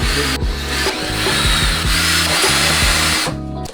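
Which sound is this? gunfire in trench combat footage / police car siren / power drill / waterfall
power drill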